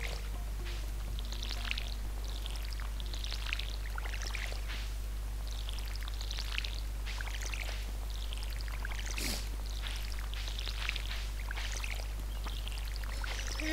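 A watering can pouring in the farming video game Stardew Valley, a soft repeated splashing and trickling that recurs in short bursts over a steady low hum, fairly faint throughout.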